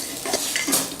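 Fried potatoes tipped into a pan with turmeric, garam masala and red chilli powder and stirred, brief clinks and scraping of a spoon against the pan with light sizzle, close and short.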